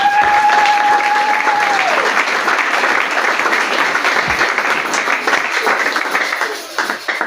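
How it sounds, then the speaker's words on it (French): A congregation at a worship service claps loudly and continuously, a dense wash of applause that holds steady before easing slightly at the end, with a sustained musical tone under it at the start. "Acclamons très fort Jésus-Christ."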